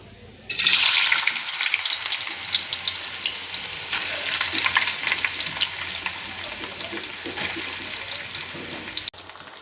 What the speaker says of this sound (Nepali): म चाहिँ यतातिर आलुको पिन्स फ्राई गर्न जान लाग्छु।